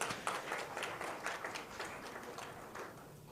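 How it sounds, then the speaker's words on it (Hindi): Audience applause at a real estate investment gathering, many hands clapping together at first and then slowly thinning and fading toward the end. "आप लोगों को सबसे पहले अपने लिए एक बार जोरदार तालियां बजानी चाहिए"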